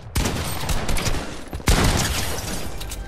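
Dense bursts of gunfire in the Fortnite video game, loud and close, with rapid overlapping shots filling the clip and a brief gap before another volley.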